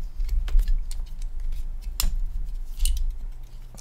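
Leatherman multi-tool scissors snipping cotton wick, a few sharp close cuts and clicks spaced out over a few seconds, with faint handling rustle between them.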